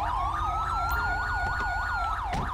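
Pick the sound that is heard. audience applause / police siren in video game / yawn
police siren in video game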